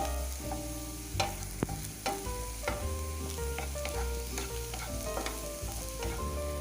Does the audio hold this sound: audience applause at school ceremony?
no